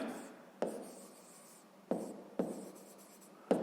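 A pen writes out a solution to a sixth-grade geometry exercise about the side of a square, a soft scratchy scribbling with several sharp taps of the pen meeting paper at uneven intervals, close and quiet with no talk.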